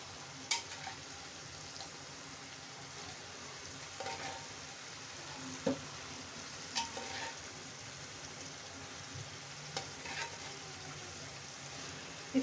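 Steady hiss of boiled ingredients frying in masala in a pan for Mumbai-style misal pav, with occasional clinks and stirring scrapes breaking through the frying noise.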